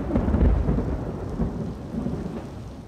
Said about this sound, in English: Heavy rains basically shut down the outsides